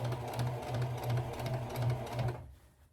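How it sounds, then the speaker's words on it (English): A sewing machine runs a straight stitch slowly, its needle thumping in a steady, even rhythm close by for a couple of seconds before it stops abruptly. "We're going to straight stitch this, and here we go. Now I am going to just sew very slowly."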